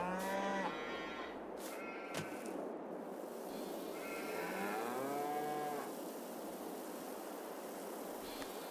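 Several cows moo in drawn-out, low calls over a steady background hum in Farming Simulator 22, one lowing after another with no talking.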